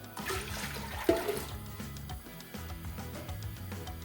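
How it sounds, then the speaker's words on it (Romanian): Vinegar poured into a pot of two litres of water heating for pickling peppers, giving a steady liquid splash and trickle that runs for a few seconds with a brief louder burst near the start, over low kitchen background. "Am pus cei 2 litri de apă la fiert, peste care adăugăm oțetul"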